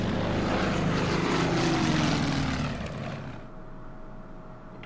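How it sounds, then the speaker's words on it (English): Propeller bomber aircraft in the war strategy game Order of Battle drone loudly overhead. The heavy engine roar holds, then fades away in the last couple of seconds. "Now the bombers will bomb that one."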